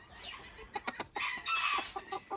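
A reserve rooster and a black hen in their farm pen cluck and squawk in short, uneven bursts nearby, over quiet background noise.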